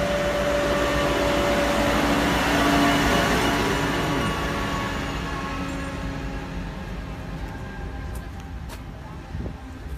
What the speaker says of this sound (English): Welcome to the land train, ladies and gentlemen.